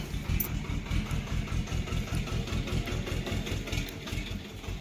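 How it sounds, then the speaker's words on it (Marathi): Tractor engine idling on a farm: a steady, rhythmic low diesel throb with rapid regular pulses, fairly close and continuous, with no talk over it. "ट्रॅक्टरवाला आला बघा टायली घ्यायला"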